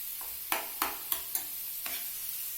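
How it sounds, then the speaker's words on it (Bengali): Pasta being stirred in oil in a pan at home, with four or five distinct scraping knocks of the spoon against the pan over a faint sizzle, close and fairly quiet, no voices. "এবার এই পাস্তাগুলো এই তেলের মধ্যে নাড়িয়ে নেব"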